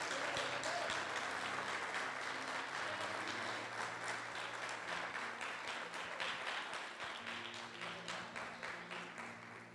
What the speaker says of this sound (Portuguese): eu quero que você, como um bom pentecostal, aplauda Jesus por essa decisão